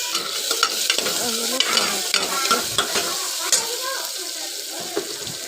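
Turmeric fries in a pan with a bright, steady sizzle, punctuated by repeated scraping stir strokes close up, while faint talk sits underneath.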